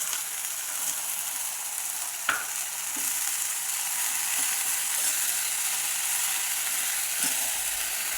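Washed dill greens and peas stirred in a hot pan for a simple Marathi-style vegetable dish: a continuous hissing fry with a few light scrapes and taps from the spoon, close and without speech.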